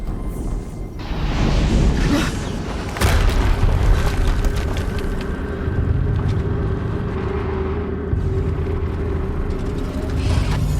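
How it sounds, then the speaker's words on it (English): Loud explosion in Horizon Zero Dawn, a deep booming blast with a sharp onset, then a second heavy boom a few seconds later over sustained rumbling game sound. "Another explosion."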